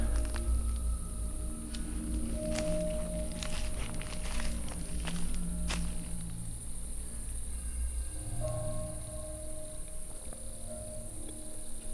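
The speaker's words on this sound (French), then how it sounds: "Il y a vraiment des bruits de pas." Footsteps crunch and shuffle through a forest at night, several irregular steps heard at a moderate distance over a steady bed of chirping crickets and insects, with no talking.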